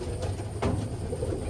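A Malwai pigeon from Baruipur coos in a low, soft tone against a steady hum of background noise, with one brief brighter note standing out midway.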